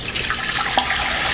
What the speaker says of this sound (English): So we're gonna pour our cooled down blue liquid here into